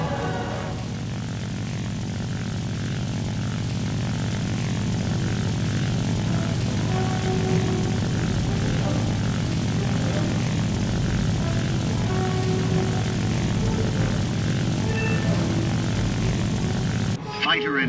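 A propeller aircraft engine drones continuously and loud in War Thunder, a steady unbroken roar with slight shifts in pitch throughout.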